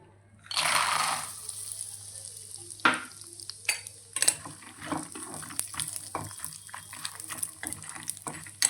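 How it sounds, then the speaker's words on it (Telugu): Peanuts dry-roasting in a pan for peanut chutney, stirred with a utensil: a brief rushing hiss at the start, then repeated close scrapes and light clicks of nuts shifting against the metal, with no talking. "ఇందులో మనం పల్లీలు వేయించుకుందాం"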